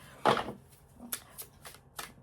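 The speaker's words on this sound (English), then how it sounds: "So let's give this a good shuffle, this Archangel Metatron Self-Mastery Oracle deck." An oracle card deck being shuffled by hand, a loud riffle burst followed by several softer, crisp card flicks and slides at irregular intervals, close and quiet with no talking.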